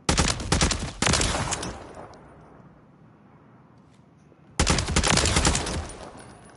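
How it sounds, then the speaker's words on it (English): ISO Hemlock rifle firing in Modern Warfare 2, two rapid loud bursts of automatic gunfire, a pause with faint ambience, then another sustained burst, no talking. "this is a Modern Warfare 2 gun, the ISO Hemlock"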